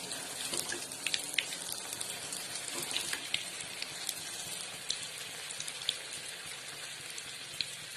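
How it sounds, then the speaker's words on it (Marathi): Coconut-filled karanji sizzle and crackle in hot oil, a soft continuous bubbling hiss dotted with small pops throughout, steady and close. "त्याच्यामध्ये अलगद सोडायचं या करंज्या आणि व्यवस्थित तळून घ्यायचं त्यांना ब्राऊन होईपर्यंत."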